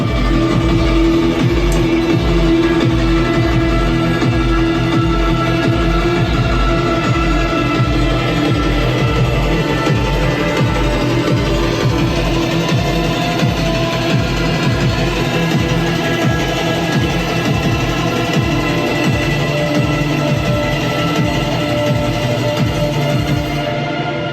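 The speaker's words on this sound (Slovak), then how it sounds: "sú to všetko vyrobené zvuky na elektrických gitarách" Dense, loud electric guitar textures blended with electronic tones, a sustained droning wash with a pulsing low end throughout, no voices.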